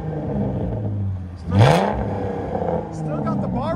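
A straight-piped 2008 Dodge Charger with a 3.5L V6 and X-pipe idles with a raspy drone, then blips once in a sharp, loud rev around the middle before settling back to a rumbling idle, close by.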